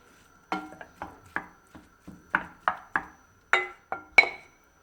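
Intermittent metallic scrapes and clinks of a spoon stirring a kilo of ground meat browning in a pot, about a dozen short strokes with soft sizzling between them.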